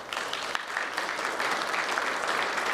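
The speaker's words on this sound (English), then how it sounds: "they marched in to receive a loud round of applause" Sustained loud applause from a ceremony crowd as military veterans of all branches march in formation, dense clapping filling the whole stretch without pause.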